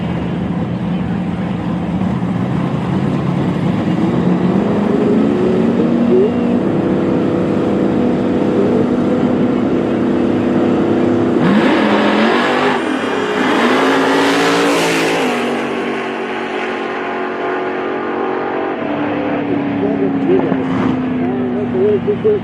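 A drag race car powered by a big-block Chevrolet 565 engine roars loudly at Tulsa Raceway Park, revving and surging with a strong rise mid-run before settling into a steady drone, while a commentator talks over it.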